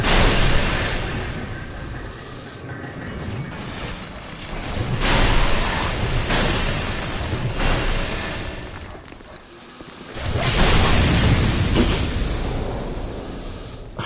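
Deep, rumbling booms burst out in Dark Souls 2, with two or three loud swells separated by quieter stretches of rolling noise.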